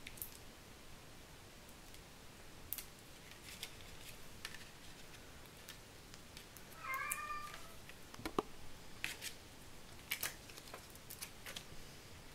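A house cat lets out one brief meow midway through a quiet indoor stretch filled with scattered light clicks and taps.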